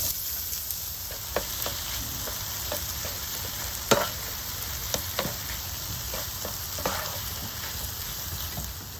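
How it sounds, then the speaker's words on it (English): Aromatics sautéing in hot oil for turkey chili, an even crackling sizzle with scattered spoon taps and scrapes, one louder knock midway. "The oil is heating up, so we are going to saute the aromatics."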